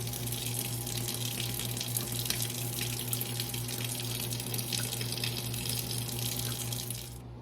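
Warm water runs steadily from a kitchen tap for a yeast mixture, a continuous close hiss and gush that carries on evenly before cutting off at the very end.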